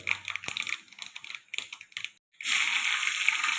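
Mustard seeds hitting hot coconut oil for a Kerala sardine curry with kudampuli give irregular crackling pops and spits at first, then a sudden loud, steady spluttering sizzle close by.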